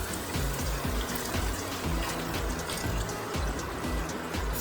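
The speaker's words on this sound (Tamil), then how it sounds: "பீஃப் வேக வச்ச தண்ணி இருக்குல்ல, அதை வந்து ஃபஸ்ட்டு ஊற்றிக்குவோம்" Beef cooking water poured into a pan while making beef chukka, a steady, continuous splashing and gurgling stream of liquid, fairly close and even in loudness throughout.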